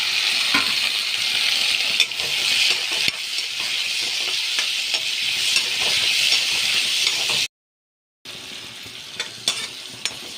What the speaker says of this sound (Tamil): இப்போ கருவேப்பிலையும் தக்காளியும் போட்டு வதக்குறேன்.